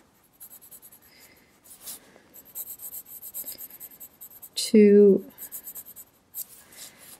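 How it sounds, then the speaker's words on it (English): A black colored pencil lightly shades on paper in close, papery scratching strokes, repeated in short bursts, with a brief spoken word partway through. "I'm just very lightly adding a bit of that black pencil"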